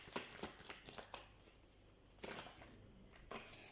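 A deck of tarot cards is shuffled by hand in several quick, crisp bursts of riffling and flicking, close and fairly quiet, with short pauses between them.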